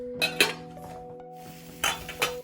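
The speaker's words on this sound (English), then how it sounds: "I'm going to give a quick check on my noodles, give them a nice little spin around. Just stir it up pretty good." A utensil scrapes and clinks against a cooking pot as boiling noodles get a quick stir. Two or three brief knocks stand out over a steady low hum.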